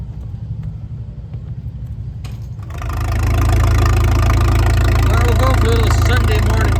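An Austin Hornsby stationary engine, just started at a steam-era show, chugs up to a loud, steady running rumble after a quieter opening, with people talking around it.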